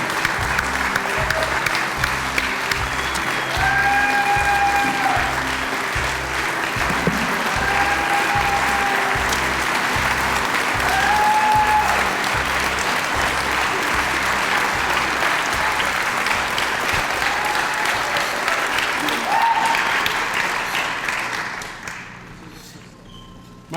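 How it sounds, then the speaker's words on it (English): Audience applause at a live documentary event: a sustained crowd clapping loudly for about twenty seconds, with a few faint whoops mixed in, before tapering off at the end. "Everybody, please give a huge round of applause for my good friend, David Miller."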